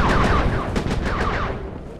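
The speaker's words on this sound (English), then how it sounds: "Be careful with those fireworks, Panda King." Rapid fireworks shots in the Sly 3: Honor Among Thieves video game, a loud, dense burst of popping blasts in quick succession that tapers off slightly toward the end, with no talking.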